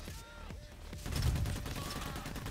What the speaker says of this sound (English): We'll just shoot like crazy and get some kills.